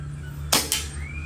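A Mini Predator bottle-tank air gun fires a single shot of Astro pellets, a sharp close crack followed by a quick second snap of the impact, with faint background hum and no talking.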